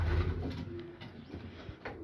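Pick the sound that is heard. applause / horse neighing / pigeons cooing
pigeons cooing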